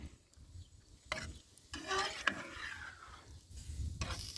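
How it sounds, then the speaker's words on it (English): Italian seasoning is stirred into food cooking on a wood grill, giving soft scraping and stirring strokes over a faint sizzle, with a couple of sharper utensil clicks, close and quiet. "Begin to stir it in just a little bit"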